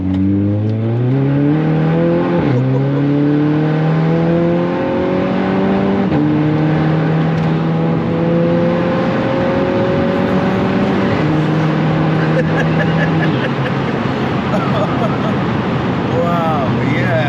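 A Volkswagen Golf GTI Mark 5 with a stage 1 tune drives hard: a loud, close engine note climbs steadily through several gears, dropping briefly at each shift, over continuous road and wind roar.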